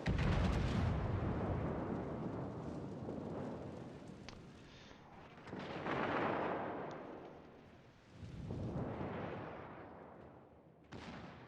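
Battleship main guns firing high-explosive shells in World of Warships, a series of deep booming blasts with long rumbling decays, the loudest at the start and further heavy reports following at intervals of a few seconds.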